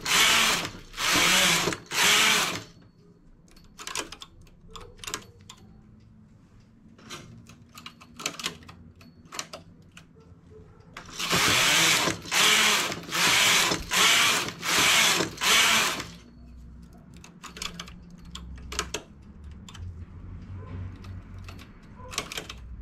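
A domestic knitting machine knitting a child's wrap jacket: the carriage makes loud bursts of rapid clattering passes in two groups, separated by quieter stretches of small clicks and handling sounds.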